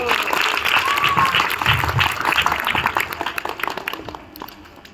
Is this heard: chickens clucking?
no